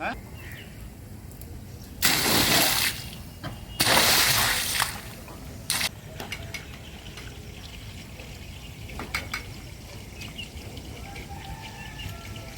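Water pours and splashes out of a household water tank during cleaning, coming in loud gushing bursts between steadier trickling, with faint birds in the background.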